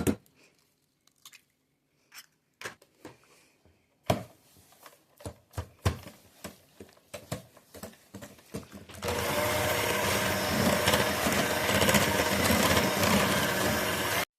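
An electric mixer beats sugar and eggs for double chocolate and hazelnut cookie dough, first in short, sharp bursts with clatter and gaps, then running steadily and loudly for the final stretch.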